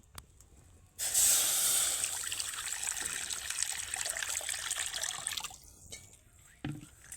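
Water gushes steadily into a pan to boil three large catla fish pieces, a close, hissing pour lasting a few seconds that ends with a short trickle and a light clatter.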